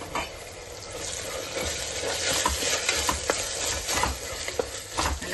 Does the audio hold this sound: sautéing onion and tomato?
yes